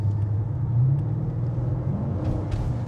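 A Mercedes GL 550 engine pulls under a quick stab of throttle, giving a deep, loud, close rumble that swells briefly with a rising tone and then holds steady.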